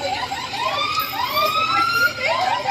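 An ambulance siren wails with rising and falling tones, loud and continuous, sweeping up and down over a steady background rumble.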